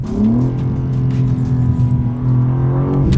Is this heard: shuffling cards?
no